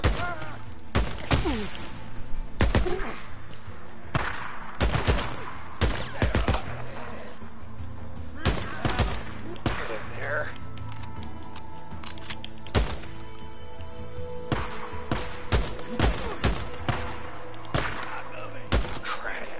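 Gunfire in the zombie video game Days Gone: repeated loud, sharp shots in irregular bursts and single cracks across the whole stretch, with a steady game soundscape underneath.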